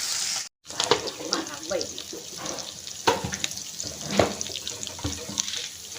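Green chillies and curry leaves sizzle in hot tempering oil for papu pongal, a continuous loud crackle and hiss close by with brief splutters, broken by one short silent gap near the start.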